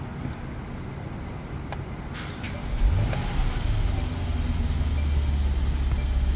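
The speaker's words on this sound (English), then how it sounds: "I'm gonna start the car." A Mercedes-Benz S560 engine cranks and catches near 3 seconds, then settles into a steady idle over a constant low hum, close by and with no talking.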